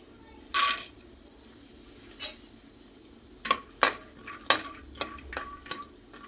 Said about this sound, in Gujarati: સિંગદાણાને સરસ શેકી લેવાના છે